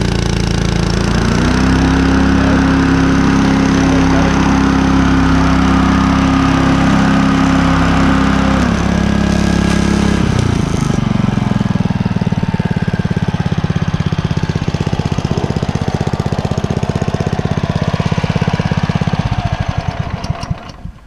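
A Kubota W821SC walk-behind lawn mower engine runs with the blade disengaged, a loud, continuous close-up drone with a steady idle that shifts pitch partway through and then keeps running rough until it fades at the end.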